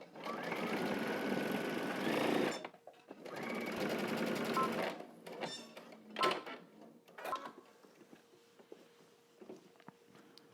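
A sewing machine back stitches fabric for pleated pants in two rapid bursts of close mechanical chatter, followed by a few shorter, quieter runs and handling clicks.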